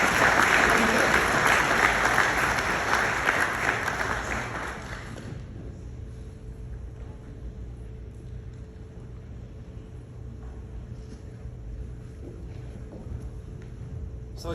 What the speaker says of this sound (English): let's give Kathryn Walker a round of applause.